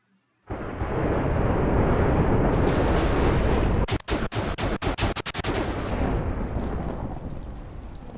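A sudden loud roaring blast erupts and sustains, followed by a rapid series of sharp explosive cracks, then a fading rumble, from meteor impact explosions in Minecraft.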